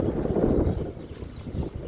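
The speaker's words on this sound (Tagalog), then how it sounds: "Sobrang mahangin." Steady wind rushing and buffeting across a backyard vegetable garden with fruiting trees, a broad continuous blustery roar that swells and eases throughout.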